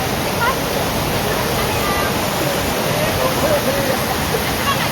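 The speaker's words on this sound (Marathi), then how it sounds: "नेकलेस वॉटरफॉल बघण्याची खरी मजा ही दुरूनच आहे" Necklace Waterfall at Bhandardara, Maharashtra, pours with a steady, dense roar of rushing water that fills the whole moment, with faint voices barely showing beneath it.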